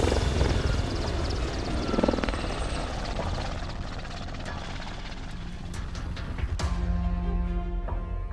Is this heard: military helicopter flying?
yes